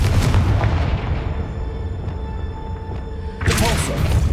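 A Confringo blasting spell explodes against a pillar blocking the path in Hogwarts Legacy, a loud booming blast at the start that rumbles and decays, followed by a second burst near the end.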